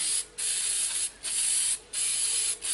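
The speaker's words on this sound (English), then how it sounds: "I use a little spray grease here." Four bursts of aerosol spray grease hiss in quick succession during a 1993 Saturn front brake job, each about half a second to a second long, close by with brief gaps between.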